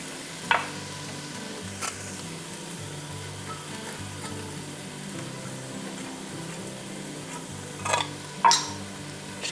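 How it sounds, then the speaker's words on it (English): Vegan white chili with diced green chilies being stirred in a pan, a silicone spatula scraping the bottom, giving a low steady simmering bed with a few sharp scrapes near the start and two louder ones near the end. "Just gonna mix all that together and really scrape the bottom of the pan"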